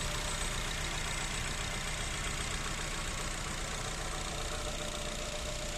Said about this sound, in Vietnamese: Động cơ chạy khá là mượt